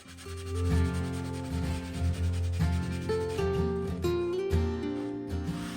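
Burlwood veneer on an Art Deco cabinet being sanded by hand with 120 grit sandpaper, a close scratchy rubbing that comes in repeated strokes of uneven length, with a low tonal hum underneath.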